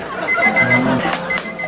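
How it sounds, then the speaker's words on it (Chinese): A dumbbell-shaped alarm clock rings with a steady electronic tone under a bustle of nearby sound and brief talk in the room. "这小玩意儿是闹钟。"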